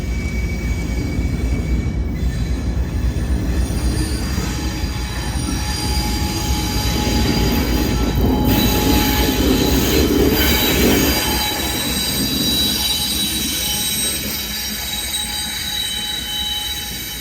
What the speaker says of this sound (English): We see CSX 143 north coming from the CSX Willard sub and onto the CSX Pemberville sub.